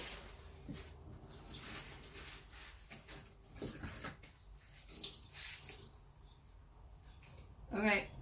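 A kitchen tap runs water onto a kitchen towel, giving a steady close splashing and trickling that rises near the end, while a person talks over it.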